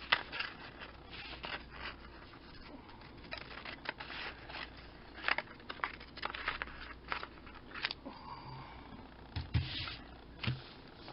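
Scissors snip and crunch through a paper bag in a run of irregular close cuts, with rustling paper handling between the snips and no talking.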